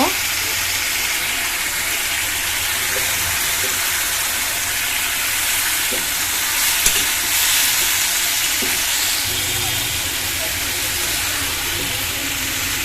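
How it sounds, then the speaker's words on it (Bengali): Ridge gourd, boiled potato and prawns sizzle loudly and steadily in a pan while being stirred, with dull scraping knocks from the spoon now and then. "দর্শক ধন্দুলটা দিয়ে দিয়েছি, আমি একটু নেড়ে দিচ্ছি"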